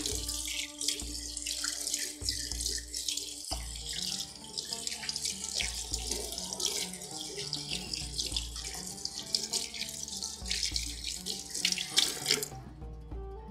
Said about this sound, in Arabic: اغسل ايدي بس